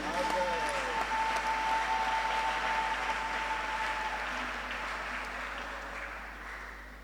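A church congregation applauds to acclaim the Lord, a dense, sustained wash of clapping that holds steady and then slowly fades toward the end.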